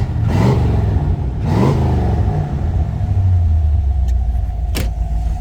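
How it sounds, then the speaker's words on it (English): A 1972 Chevrolet Corvette idling loudly with a deep exhaust rumble, revved sharply twice early on, then settling back to a low burbling idle with a brief mechanical click near the end. "Let me see if I can get you a little bit of that exhaust sound going on here."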